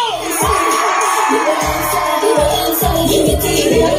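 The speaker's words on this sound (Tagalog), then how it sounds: "ibigay nyo ang pinakamasigabong palakpak" A large crowd at a political rally in the Philippines cheers, whoops and applauds, a loud dense roar with shouts, while booming low drum-like bangs repeat in a steady beat underneath.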